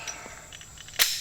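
A single sharp shot from a Glock 21 Gen 4 .45 ACP pistol fired outdoors at a squash target: one brief, crisp crack near the end, with quiet outdoor background before it.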